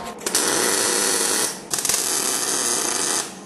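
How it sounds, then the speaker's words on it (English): Arc welding on homemade metal foundry crucible tongs: two sustained bursts of harsh, buzzing crackle, each about a second and a half long, close and loud, with a short pause between them. "Now more welding."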